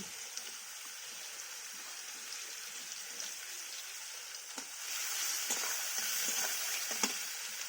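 Whole garam masala, dried red chillies and two bay leaves sizzle in hot oil with a bright, continuous crackle that swells louder halfway through, with occasional sharp pops and no talking.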